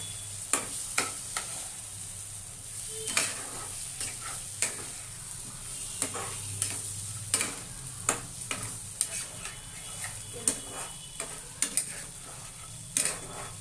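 A catla fish head sautés in a pan with cumin, chilli and turmeric powder: a soft, continuous sizzle broken by regular sharp scrapes and taps of a spoon stirring against the pan.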